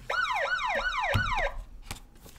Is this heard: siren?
yes